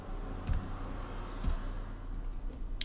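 Quiet, sparse clicks of keys being typed on a computer keyboard, a few isolated taps over a low background hum.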